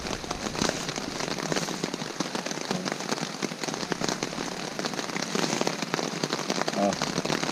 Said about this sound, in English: the sound of the rain just put me right out